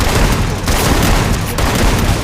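Dense gunfire from a shooter video game match, a continuous loud burst of overlapping shots and booms with no pause, filling the whole moment.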